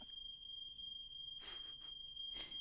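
A smoke alarm goes off in a house with two short bursts of high-pitched beeping, the second about a second after the first, over a steady electronic tone and quiet background noise.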